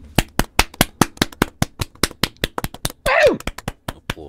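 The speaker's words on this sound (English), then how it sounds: "The people want to hear us clap." A small group claps in a steady, fairly even rhythm of sharp nearby hand claps, with a brief burst of cheering voices near the end.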